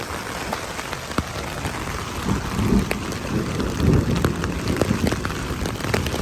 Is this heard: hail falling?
yes